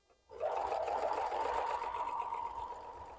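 A sewing machine stitches a table runner: a steady, close, continuous motor whir that starts abruptly after a brief quiet moment and runs evenly to the end.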